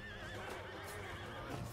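Horses whinnying and neighing amid battle in the Realm of Thrones game, several overlapping loud cries over a continuous rumble of hooves and clatter.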